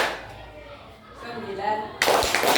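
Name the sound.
students clapping hands for an odd number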